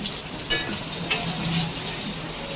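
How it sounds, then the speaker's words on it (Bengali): Potato and green banana chunks fry in oil with tomato, chili, turmeric and coriander powder, sizzling steadily while a spoon stirs, scraping sharply twice against the pan. "দেখুন আলু কাঁচকলা লাল লাল করে ভেজে নিচ্ছি।"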